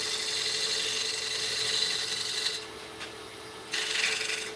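A wooden vase turned between centers on a lathe while a carbide tool trims it gives a loud, steady rasping scrape that breaks off briefly midway and then resumes, with no talking.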